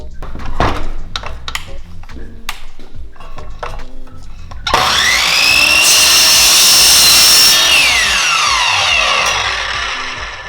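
A miter saw cuts through a wooden brush stick. A few light clicks and knocks come first, then a loud, close motor whine swells sharply as the blade bites in and winds down slowly toward the end.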